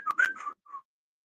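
A person whistles to call a dog, a few short, clear tonal whistle notes in quick succession followed by a brief final note, then silence, close and alone without talk.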